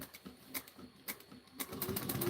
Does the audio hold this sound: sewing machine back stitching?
yes